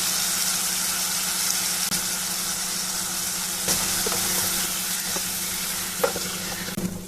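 Drumstick pieces and small shallots sauté in a hot pan for a wedding-style ground-masala sambar, giving a steady close sizzle and hiss with occasional stirring scrapes and clinks throughout.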